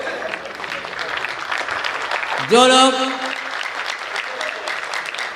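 An audience at a political gathering in Uttar Pradesh claps steadily throughout, a dense rattle of applause running under a voice that speaks briefly over it.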